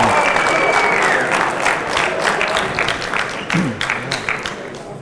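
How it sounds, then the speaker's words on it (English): A crowd at the East vs West 2 arm wrestling match between Oleg Cherkasov and Yusuf Ziya Yıldızoğlu applauds loudly and continuously, with a whistle near the start and scattered shouts and cheers through the clapping. "And applause him."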